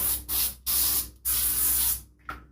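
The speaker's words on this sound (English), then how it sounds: "We'll also give it a quick spray with a Spanish olive oil to make sure it's not sticking anywhere." Spanish olive oil sprayed onto a baking tray: three or four close, loud hissing bursts with brief gaps between them, alone without speech.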